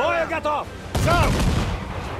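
After a shouting voice, a loud ship's cannon blast booms in Assassin's Creed IV Black Flag and rumbles away while the voice keeps shouting.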